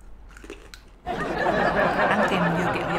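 Crunchy freeze-dried marshmallow candy bitten and chewed close up, a quiet pause giving way to loud, sustained crackling crunches.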